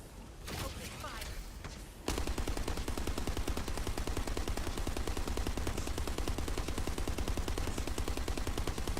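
Sustained automatic gunfire in the video game The First Descendant, firing as a dense continuous stream after a brief stretch of quieter in-game sound with a voice speaking over it.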